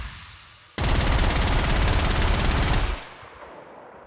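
Wisp's rapid-fire weapon in a video game shooting fast, with a dense, steady burst of automatic shots lasting about two seconds after a quiet start, then cutting off into low background noise.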